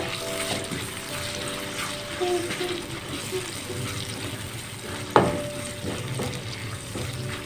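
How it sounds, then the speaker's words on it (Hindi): Spices sizzle and fry in a karahi after water is added, a steady bubbling hiss with a sharp clink of a utensil partway through, no talking. "पानी साथ में डालेंगे ताकि मसालों की अच्छी तरह भुनाई हो जाए।"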